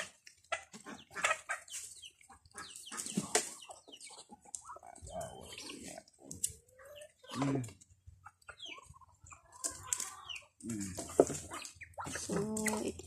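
Chickens and ducks cluck and chatter nearby while being fed ripe saba bananas, in scattered irregular bursts with quiet gaps, moderately loud and close.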